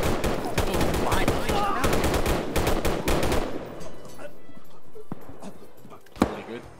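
Rapid automatic gunfire in a military video game, dense bursts of shots for several seconds, then sparser single shots, with voices talking over radio in between.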